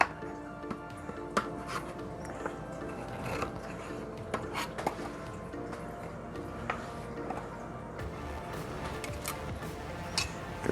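A knife and fork cut into bacon-wrapped meatloaf in a pan, giving soft scraping, rubbing and occasional metallic clinks against the dish, close and quiet with an irregular rhythm.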